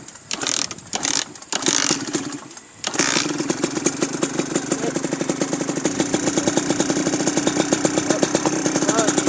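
A dirt bike engine sputters through a few uneven bursts, then catches and settles into a steady, fast idle of evenly spaced pulses that continues close and loud to the end.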